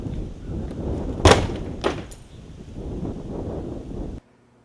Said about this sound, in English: we were able to kick in this door with one swift kick.